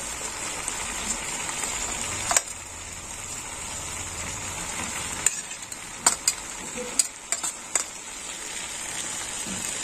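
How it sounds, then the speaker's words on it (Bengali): Puti fish fry in a pan with onion, a steady hiss of sizzling oil running underneath, broken by several sharp clicks and knocks of stirring toward the end. "এবার আমি পুঁটি মাছগুলো দিয়ে দেবো।"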